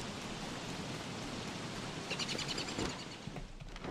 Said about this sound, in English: Wow, it is really raining, huh?